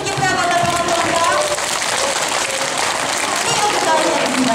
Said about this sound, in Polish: Jeszcze raz wielkie brawa dla pana Tomka.